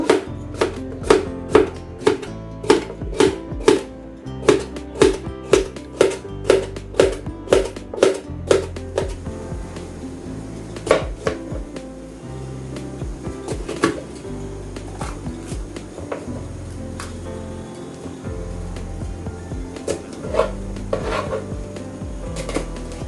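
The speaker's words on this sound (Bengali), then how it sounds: "এরপর আমি কেটে নিব গাজরের মতোই আমি পাতলা পাতলা করে কেটে নিব" Knife slicing peeled papaya into thin pieces on a cutting board, with a rapid, regular series of sharp chops against the board that gives way to looser, irregular knocks and scrapes, close and clear, no talking.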